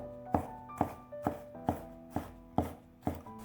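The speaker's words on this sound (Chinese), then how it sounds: "准备1把去皮的大蒜，拍扁后给它切成蒜末" A knife chops peeled, flattened garlic cloves into mince on a board, seven crisp evenly spaced strikes about half a second apart, close and clear with no talk.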